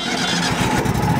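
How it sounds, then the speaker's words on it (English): A Trailblazer 325 welder-generator engine runs at a steady, even mid-pitched drone, close and fairly loud, while it charges a battery. Nobody speaks. "Start the Trailblazer engine and charge the battery for 10 minutes."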